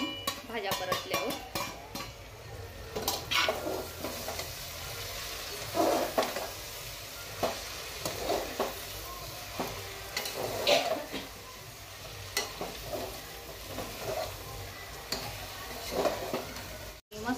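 Vegetables and spices sauté in a pan for a home-cooked veg pulao, with a soft sizzle under repeated scraping and stirring of a spoon against the pan. The sound is fairly quiet and close, with occasional clinks.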